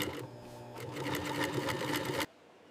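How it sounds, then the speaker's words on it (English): A high-speed industrial sewing machine runs a rapid, steady stitch through cowhide leather bag panels in a factory, loud and continuous for about two seconds before cutting off abruptly. "High-speed machines create strong, even seams that hold the bag's shape together."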